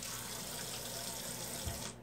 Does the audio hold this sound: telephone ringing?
no